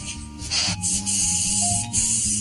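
Short bursts of hissing spray, a few separate blasts over a low mechanical hum, fairly close and loud.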